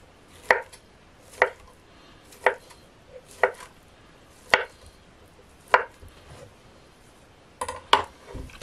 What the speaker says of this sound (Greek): Κόβουμε σε μικρά κομμάτια.